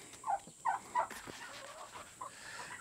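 Barnyard chickens clucking nearby among turkeys and goats, three sharp clucks in quick succession early on followed by softer scattered calls and faint background fowl sounds.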